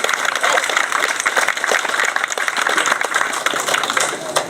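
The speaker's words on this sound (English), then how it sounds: "So let's give a round of applause for Fran Matson." An audience applauds at a county fair's outstanding senior ceremony, a dense, steady wash of many hands clapping close by that holds level throughout without a break.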